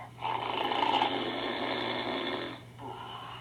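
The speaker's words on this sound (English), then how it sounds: "he began to snore so loudly that it sounded like thunder" A giant's loud storybook snore from Jack and the Beanstalk: one long, deep, rumbling breath held for over two seconds, then a short softer snort, with no talking.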